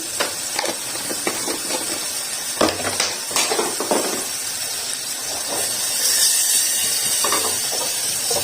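Cumin seeds sizzling in melted butter in a pan for dhaba-style dal fry, a steady close hiss with scattered sharp crackles and pops, some stirring clatter, no talking.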